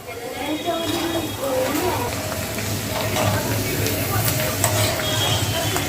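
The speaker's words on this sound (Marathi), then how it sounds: "आपल्याला ना हे कलर येईपर्यंत आपल्याला असे फ्राय करायचे आहेत तुपामध्ये" Soaked rice sizzles and fries steadily in hot ghee for kheer, with a stirring scrape now and then, while a person talks over the cooking.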